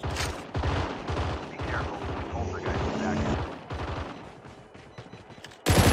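A pistol in Call of Duty Mobile fires rapid bursts, loud close cracks in tight clusters over the first few seconds, with softer game noise after and a sharp blast near the end.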